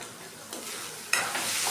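A spoon stirring food seasoned with turmeric in a pan, with close scraping strokes over a soft frying sizzle that steps up louder near the end.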